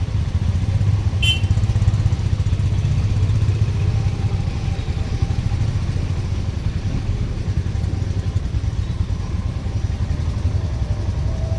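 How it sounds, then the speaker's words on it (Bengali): A motorcycle engine rides downhill in first gear using engine braking on a mountain road near Shimla, a steady low rumbling drone held throughout with no talking. "ইঞ্জিন ব্রেকিংয়ের সাহায্যে আস্তে আস্তে আস্তে আস্তে নেমে যাই আমরা ফার্স্ট গিয়ারে"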